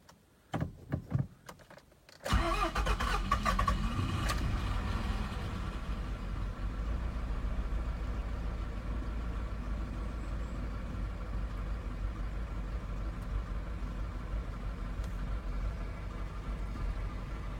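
A Toyota Previa's 2AZ-FE engine cranks briefly, catches and settles into a rough, shaking idle that runs steadily at close range after a short flare of revs.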